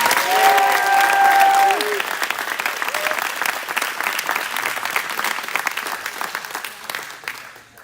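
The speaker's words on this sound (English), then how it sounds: "Let's give a round of applause for Jake Sweeten" Audience at a men's NCAA gymnastics meet claps and cheers loudly, swelling at first and then tapering off gradually over several seconds, with a few whistles early on.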